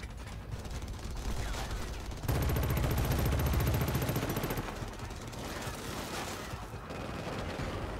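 Sustained, dense gunfire in Killzone Shadow Fall, a continuous rattle of automatic shots that swells heavier and louder midway, with sci-fi battle noise throughout.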